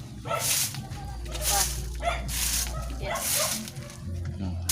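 Dogs bark, yip and whimper in short bursts across the clip, fairly close, with people talking over them.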